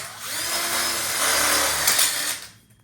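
Power drill driving screws into the base of a telescoping gas grill module for a DIY outdoor kitchen, one close whirring burst lasting a couple of seconds before stopping, no voices.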